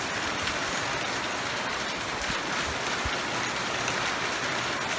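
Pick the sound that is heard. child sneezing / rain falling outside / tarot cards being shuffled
rain falling outside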